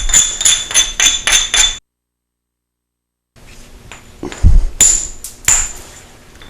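Flint knapping by hand, with a series of sharp percussive strikes on a piece of flint in two bursts: five rapid, evenly spaced cracks, a pause, then several more clicks and knocks, close and fairly loud.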